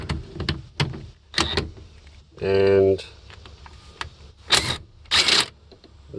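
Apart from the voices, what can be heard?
cordless impact gun removing Humvee steering wheel nut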